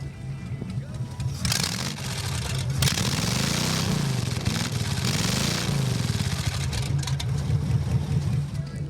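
A custom straight rod tractor with a hit and miss engine runs steadily near at hand, its low rhythmic thumping continuous beneath a loud, busy background of crowd and show noise.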